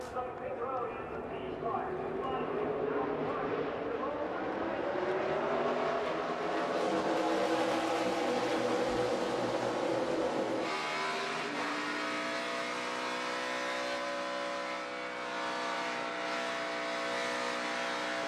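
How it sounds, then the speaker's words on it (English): A NASCAR stock car at the 2017 O'Reilly Auto Parts 500, with Kevin Harvick blipping the throttle before a restart. The engine drones and swells in a steady, loud rumble beneath continuous commentator talk. "You can hear Harvick playing with the throttle."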